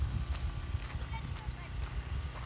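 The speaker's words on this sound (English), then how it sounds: "we do need to feed the horses" Horses on an off-grid Idaho homestead: faint hoof clip-clops and rustling movement under a low outdoor rumble, with people talking nearby.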